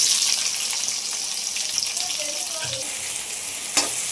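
Chopped onions hit hot oil with spices in a village-style kadai gravy, giving a steady, dense sizzle that runs throughout with a few faint stirring clinks and one sharp knock near the end.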